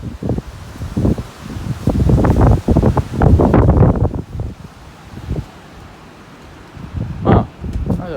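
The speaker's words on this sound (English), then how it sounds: "as soon as I say that, the wind picks up." Strong gusting wind from a November windstorm in Vancouver, Canada, buffeting the microphone in loud bursts that rise and fall, then easing into a quieter rush with a final brief gust.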